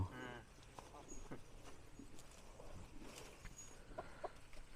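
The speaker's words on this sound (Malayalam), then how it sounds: "ഇതൊരു പ്രത്യേക ടൈപ്പ് കോഴികളാണ്" Kilimookku-type chickens cluck in short bursts nearby in a Tamil Nadu village, with scattered farmyard noises and some quiet talking mixed in.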